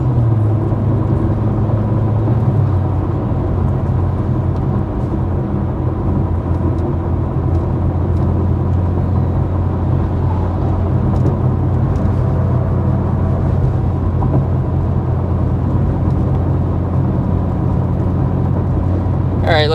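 Steady engine drone of a 2024 BMW M2 (453 hp) with road rumble from a concrete surface, a continuous even cruise at constant speed with no other notable sounds.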